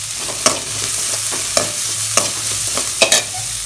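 Garlic and shallots fried in a pan, with loud close scraping strokes of a spoon stirring at an uneven rhythm over a constant sizzle.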